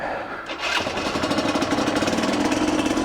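A 2003 Yamaha TDR 125 motorcycle engine runs steadily during a ride, its buzzing drone rising in pitch after a brief dip near the start and holding loud and continuous to the end.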